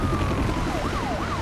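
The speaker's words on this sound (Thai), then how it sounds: "รถตำรวจสีดำเนี่ยที่เป็นคอแวตเนี่ยนะเราจะได้เจอเฉพาะตอนนี้เท่านั้นนะฮะ" A police car siren wails in a rising and falling pattern over a steady engine roar while racing in Need for Speed Most Wanted (2005), loud and continuous with no talk.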